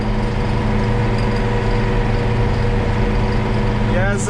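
A 1996 Ursus 1234 tractor engine drones continuously at close range while driving, a low, even rumble with harmonic hum.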